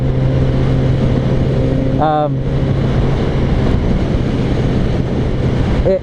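A Kawasaki Z900RS naked motorcycle rides on a cold day, its steady engine drone buried under heavy, constant wind roar, with a brief rising whine partway through.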